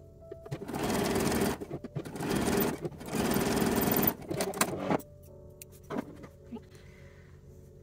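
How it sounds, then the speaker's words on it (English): A sewing machine stitches a seam with picot elastic on a lined-cup bra, running in two long bursts with a short pause, then stopping, followed by a few faint clicks and handling sounds. "you want to make sure that you're sewing every seam with the picot in the same direction"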